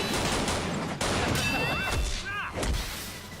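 Rifle nunchucks firing in an animated RWBY episode, a dense, loud clash of rapid shots, thuds and swooshing action sounds with a busy soundtrack underneath.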